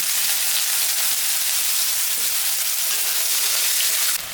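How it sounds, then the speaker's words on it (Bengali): Onions fry in hot oil already seasoned with cumin, dried red chillies and bay leaves, producing a loud, continuous close-up sizzle that stays even and then drops slightly at the end. "এখন পেঁয়াজটা আমি দিয়ে দেব"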